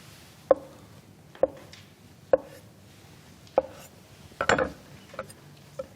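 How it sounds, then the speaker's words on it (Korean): A knife chopping vegetables on a cutting board, five sharp evenly spaced knocks followed by a short cluster of rapid cuts, close with a quiet background. "이 정도 두께로 이렇게 썰어 주시면 됩니다"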